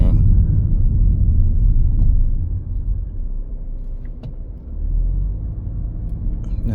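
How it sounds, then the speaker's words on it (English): An Audi A5 Sportback S-Line rolls along the road with a steady low rumble from its tires and suspension, holding constant at first, then dipping briefly before swelling again. "We're getting a absorption sound from the tires adjusting, or from the suspension and tires adjusting and everything."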